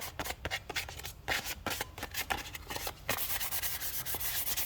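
A grey scotch pad scuffing a car part before spraying: quick, close rasping rubs in an uneven back-and-forth rhythm, turning into denser, steadier scrubbing toward the end.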